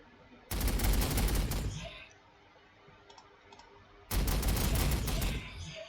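Storm bolter fire in the Warhammer 40,000: Sanctus Reach strategy video game: two loud, dense bursts of rapid automatic gunfire, each lasting over a second, separated by a quieter gap.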